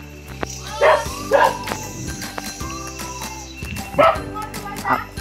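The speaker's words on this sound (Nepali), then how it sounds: "कुकुर पनि कराउँदैछ भित्रबाट" A dog barks and yips from inside a house in short, repeated bursts, some paired and some single, moderately close and clear over a steady background hum.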